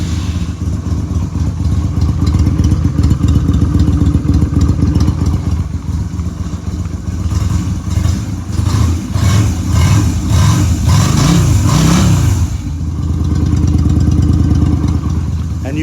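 A Yamaha V Star 250 cruiser motorcycle idles with holes drilled into its exhaust baffles, a steady, loud, throaty low rumble close to the microphone with slight fluctuations and brief rises in the middle.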